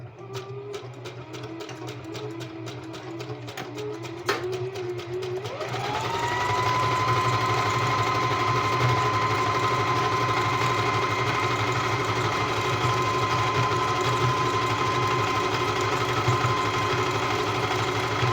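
A sewing machine starts up after some quiet clicking and handling, then runs continuously at a steady speed with an even motor hum and rapid stitching rattle.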